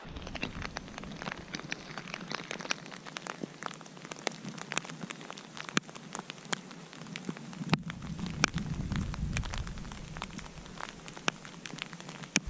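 Rain falls steadily in deep woods in the Boundary Waters, a soft constant patter with sharp individual drops striking nearby surfaces, quiet and continuous with a slightly heavier wash in the later part.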